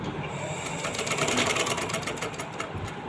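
A sewing machine stitches a kameez, running steadily and close by with a fast, even mechanical whir for the whole stretch and no pauses.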